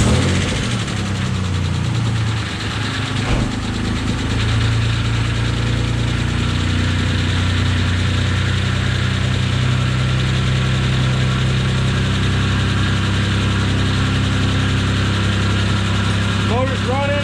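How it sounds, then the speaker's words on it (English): A Dodge Stealth engine idles in a cold garage on its first run after a repaired ECU was re-installed, a steady, low, even rumble close by that continues without pause. "Motor's running."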